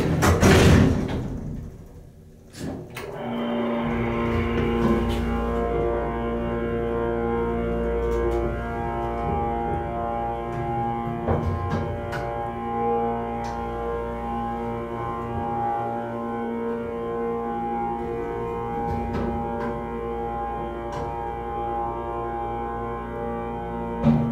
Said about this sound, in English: That is an epic motor.